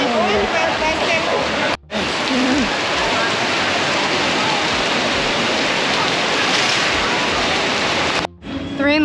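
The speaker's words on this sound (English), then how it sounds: "It's raining. It's raining so hard." Heavy tropical downpour in Bangkok drumming hard on a shelter roof, a loud continuous roar of rain that nearly fills the clip, with brief dips at the edges where voices are heard.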